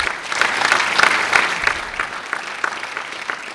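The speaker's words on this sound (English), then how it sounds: "Please give them a round of applause as well." Steady applause from a crowd at a Martin Luther King Jr. celebration, a dense patter of clapping that holds at an even level throughout, with no talking.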